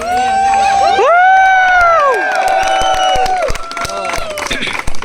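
A crowd at a live gathering cheers and whoops with loud rising and falling shouts, and scattered claps break in toward the end.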